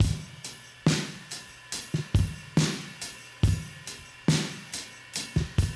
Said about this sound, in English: So his drums on their own sound like this.